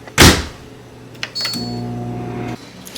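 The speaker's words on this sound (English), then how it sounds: "I'm just going to cook the microwaved rice this week." A microwave oven heating microwaveable rice: a loud door or button clack, then a steady low hum starts, runs for about a second, and cuts off, followed by soft clicks.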